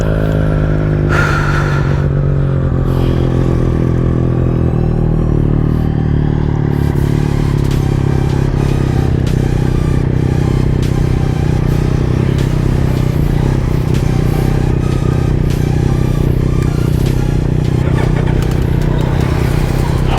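Loud, steady roar of a superbike engine while riding through Kolli Hills, a constant rumble with rising revs and rattling clatter throughout, close to the rider, without talking.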